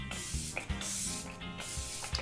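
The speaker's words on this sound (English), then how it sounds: "do a light misting of the KVD Lock-It setting spray" A few light mistings of KVD Lock-It setting spray, close and short, with quiet mechanical clicks between the sprays.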